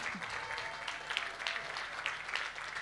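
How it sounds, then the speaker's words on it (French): Steady applause from a crowd at a Relay for Life charity event in Rixensart, a dense patter of many hands clapping continuously at moderate loudness. "Et les participants qui rendent cet événement possible, on peut aussi les applaudir."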